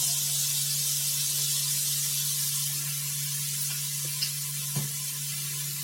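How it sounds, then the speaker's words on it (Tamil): A little soy sauce meets sautéing vegetables in a pan for home-made egg noodles, giving a constant loud hiss-like sizzle with a low steady hum beneath and one or two faint knocks near the end. "இப்போ இதோட கொஞ்சோண்டு சோயா சாஸ் சேர்க்கிறேன்."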